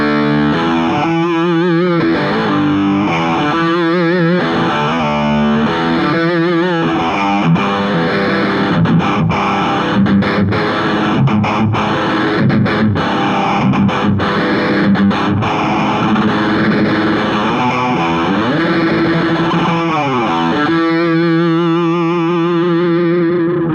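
Guitar played through a Warm Audio Foxy Tone Box fuzz pedal, a thick buzzing fuzz tone over a sustained chord with a sweeping, wavering texture, loud and continuous and without any talking.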